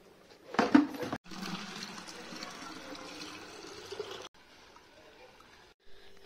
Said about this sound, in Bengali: পাম্পটা চালাবো, পাম্প চালিয়ে এখন যে জলের বোতলগুলো সব ভরবো